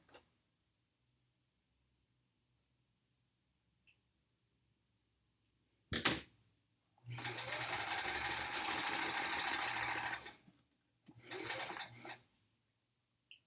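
A sewing machine stitches quilt block pieces for a sampler quilt, its motor running in a steady whirring burst of about three seconds and then a shorter run, close by, with faint clicks in the otherwise quiet space around it.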